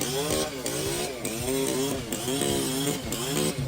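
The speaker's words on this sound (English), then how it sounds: "This Steel MS-280 saw is fast. It feels light and cuts through wood like butter." Stihl MS 280 chainsaw cutting through wood, its engine snarling loud and close with a rhythmic rise and fall in pitch as the chain bites, roughly every second.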